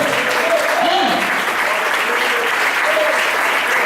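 A church congregation applauds in a dense, continuous wash of clapping that fills the room. A voice talks faintly underneath.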